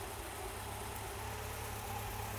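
A sportscar engine idles steadily with a low, even rumble and faint vibration, no voices present.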